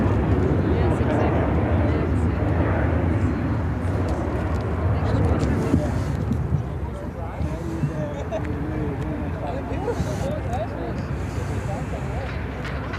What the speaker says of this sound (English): This is United Airlines Airline's 2668 taking off to Tampa,